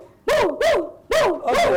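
A person imitating a dog barking at a thief, voicing four sharp, loud bark-like yelps in two quick pairs, close up with no other sound around them.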